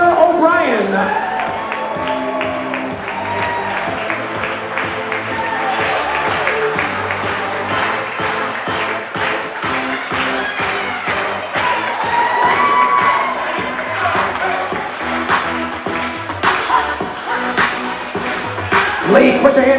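Wedding guests cheer, shout and whoop for the bridal party as it is introduced, a steady loud crowd roar with children shouting and scattered clapping running throughout, with voices mixed in.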